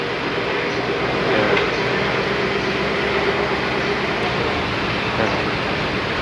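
A Toyota 1UZ-VVTi V8 engine idles steadily, giving off an even, continuous rumble that stays loud and close without revving.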